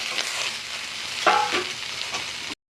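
Sun-dried elephant apple (chalta) sizzles steadily in a wok with oil and ginger, close and fairly loud, with a brief scrape of stirring midway and the frying hiss running until an abrupt cut.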